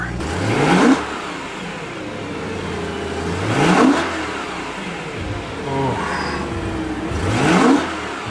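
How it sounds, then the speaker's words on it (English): A stock BMW M3 with a naturally aspirated V8 revs three times, each blip climbing to a loud peak and falling back to idle, with a sharp, close engine note and no talking. "So let's go ahead and do a little bit of revving here."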